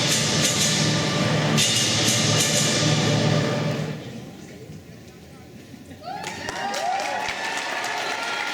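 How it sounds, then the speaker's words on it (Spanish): Loud audience applause rings out at a school forum, then fades to quieter scattered claps and room noise, and a second softer round of clapping rises near the end with some voices underneath. "Un fuerte aplauso nuevamente, por favor."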